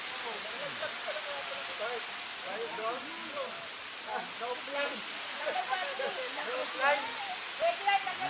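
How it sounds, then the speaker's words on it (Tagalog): A waterfall roars with a steady, dense rush of broadband water noise throughout, while faint voices talk over it now and then. "Nakita nyo ng mga bossing, ha. Ang falls."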